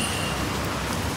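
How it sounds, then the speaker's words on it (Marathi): Heavy rain pours steadily outside a street snack stall selling hot vada, a dense, even hiss of drops on surfaces that fills the whole moment with no break. "पाऊस लय डेंजर पडते"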